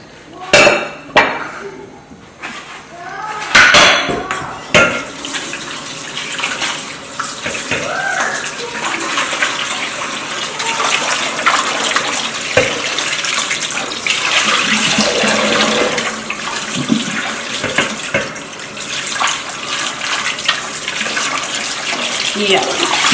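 A cooking pot being washed under a running tap while preparing okra stew, with loud gushing and splashing water, sharp knocks and clanks of the pot early on, then a continuous rush of water.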